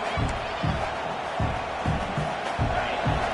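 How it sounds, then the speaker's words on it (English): A big stadium crowd roars steadily in a college football video game, with rhythmic low thumps of stomping or chanting near the goal line, loud and dense throughout. "this big crowd doing everything possible to inspire this defense down here near the goal line"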